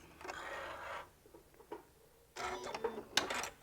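A sewing machine top stitches a knot bag in short bursts of fast mechanical whirring and clicking, stopping and restarting several times. The sound is close and moderately quiet, with no talking.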